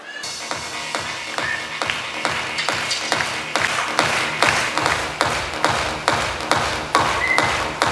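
An audience at a live comedy show claps in steady rhythmic unison. Dozens of evenly spaced, close, fairly loud claps carry on throughout with no talking.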